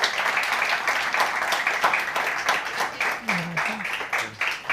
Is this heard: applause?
yes